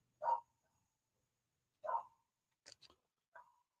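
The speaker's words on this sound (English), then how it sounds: "No way he is still barking." A dog barks a few times at a distance, with short sharp yaps spaced out over a few seconds and silence between them.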